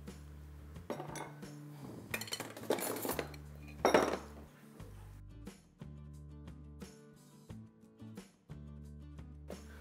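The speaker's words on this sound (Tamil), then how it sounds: "ஃப்ரூட்ஸ் எல்லாம் இங்கே மிக்ஸ் பண்ணி வச்சுட்டோம்." Chopped muskmelon, pineapple, apple, grapes and colored tutti frutti stirred together in a bowl for fruit custard, with repeated clinks and scrapes of a spoon against the dish, brief rattling bursts and a low hum underneath.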